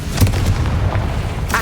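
A Confringo spell explosion in Hogwarts Legacy, a loud booming blast with a deep rumbling low end that lingers, followed by a brighter burst near the end, all close and dense.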